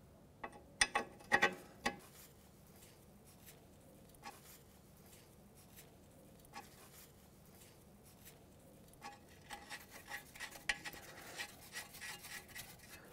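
Ratchet wrench turning a pinch bolt on a ball joint during wheel bearing work on a 2007-2013 Mitsubishi Outlander, with quiet, irregular clicks and scraping, a burst of clicking early and another stretch near the end.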